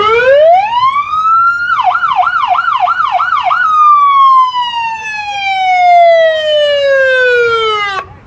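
A loud siren rises in pitch, switches to a rapid warbling yelp, then sweeps slowly downward in a long wail, with no voices.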